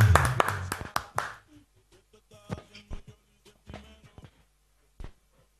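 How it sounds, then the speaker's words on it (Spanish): Audience clapping on a television variety show, a brief burst of loud applause that quickly thins into a few scattered, fading claps. "Un fuerte aplauso para Niel y acá en Tiempo Libre."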